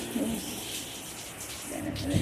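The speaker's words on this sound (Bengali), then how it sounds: "অনেক ঝড় বৃষ্টি হচ্ছে" Heavy storm rain in Houston, a steady dense hiss of falling water heard from a ground-floor spot, moderately loud and constant, with a faint voice briefly underneath.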